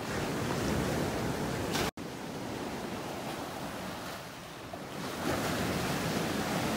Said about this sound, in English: Look at those waves hitting that old tree stump out there